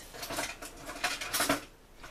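A big spoon stirring a chicken and lentil curry in a pot, producing several close metallic scrapes and clinks against the pot in an uneven rhythm, with no talking.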